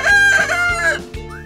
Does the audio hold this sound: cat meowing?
no